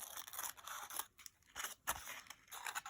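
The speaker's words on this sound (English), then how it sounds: "you'll take your scissors and just cut the corners, each corner, to give it a miter" Scissors cutting the corners of faux silk fabric to form a miter: several close, soft crisp snips with rustling between cuts, quiet and without speech.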